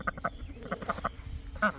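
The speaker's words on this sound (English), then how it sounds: "Hi, ducks." Ducks quacking close by in a quick run of short, faint calls, several overlapping quacks within a couple of seconds.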